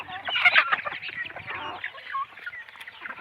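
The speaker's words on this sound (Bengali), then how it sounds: "এগুলো মুরগিকে রান্না করে দিচ্ছি, এই যে খাইতেছে।" Chickens eating cooked vegetable feed cluck and chatter nearby in short irregular bursts, with a busy, uneven pecking bustle beneath the calls.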